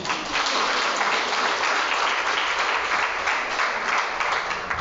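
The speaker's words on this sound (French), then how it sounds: "Et un applaudissement." Audience applause at an International Women's Day event, with loud, dense, sustained clapping from a crowd that holds steady from start to finish.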